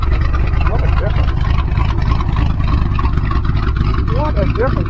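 A car engine runs steadily after a mechanic's work, its exhaust giving a continuous low rumble throughout, while a voice talks over it.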